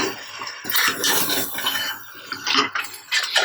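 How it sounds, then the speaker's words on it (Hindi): Spoon clinking and scraping in a bowl while Kashmiri red chili powder and salt are mixed for Nalli Nihari, a busy run of close metallic clinks and scrapes with no talk. "अब इसे अच्छे से मिक्स कर देते हैं।"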